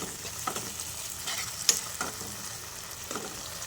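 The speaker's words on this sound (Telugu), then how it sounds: "1 స్పూన్ చిల్లీ సాస్ వేసిన తర్వాత వీటిని ఒకసారి మిక్స్ చేసుకుందాం." Cashew fried rice mixture with soy and chilli sauce sizzles in a pan as it is stirred, giving a steady frying hiss with a few sharp scrape and clink accents close by.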